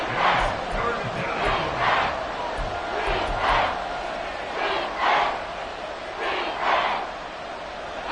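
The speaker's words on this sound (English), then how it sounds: "The Arrowhead crowd in full roar." Stadium crowd roaring at Arrowhead in a Madden football video game, a loud, sustained wall of cheering with rhythmic surging swells that rise and fall every second or so, no commentary over it.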